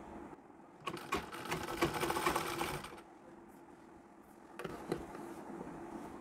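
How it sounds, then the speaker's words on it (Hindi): Sewing machine stitching a Marathi-style saree, a close whirring chatter in one burst of about two seconds, a quiet gap, then a shorter run of stitching, fairly soft overall. "इसके ऊपर से सिलाई लगा लेनी है"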